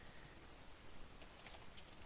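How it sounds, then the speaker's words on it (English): Quiet, rapid tapping on a computer keyboard, with soft scattered keystrokes near the end and no one speaking. "get through all of the lovely typing"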